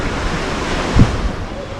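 Ocean surf at Ho'okipa Beach on Maui rolls in as a broad, steady wash of noise with wind buffeting the microphone and a brief low thump in the middle.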